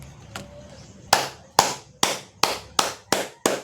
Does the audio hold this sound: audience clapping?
yes